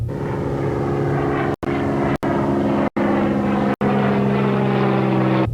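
A propeller aircraft drones steadily while flying over a dry salt-encrusted lake in outback Australia, a loud continuous engine tone broken by a few brief dropouts.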